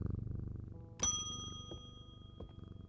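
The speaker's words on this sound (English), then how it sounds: "he rubs my chin with the back of his head, purring with delight." Jupiter, a cat in the video game Strange Antiquities, purrs in a steady, rhythmic low rumble, with a single bright bell-like ding ringing out partway through and slowly fading.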